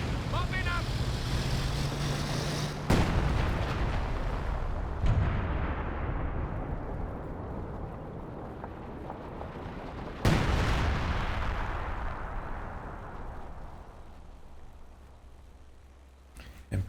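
Artillery and tank gunfire in a Company of Heroes 2 1v1 battle, with loud booming impacts near 3, 5 and 10 seconds over a constant rumble of battle noise and rolling echoes that fade toward the end.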